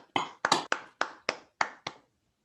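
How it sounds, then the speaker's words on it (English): Seven separate claps at the close of a lecture at a summer school on superstring theory, evenly spaced and fairly near, ringing alone before fading to quiet. "Let's clap."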